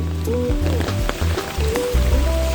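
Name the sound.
rain falling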